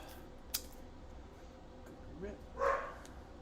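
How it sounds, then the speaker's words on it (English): A dog barks in the distance during a quiet indoor foot and ankle taping session, giving a brief faint yip early on and a slightly louder bark or two near the end over a low background hum. "Apologies if you hear my barking dog."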